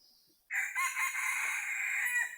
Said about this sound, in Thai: ไก่ป่ากันตอบแล้ว